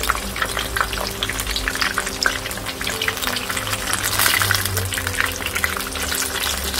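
Veg fish pieces sizzle in a pan over low-medium heat, a loud, steady close frying hiss with occasional pops and crackles and no voices.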